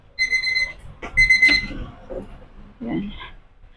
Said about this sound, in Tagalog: Yan, tumunog na yung alarm natin.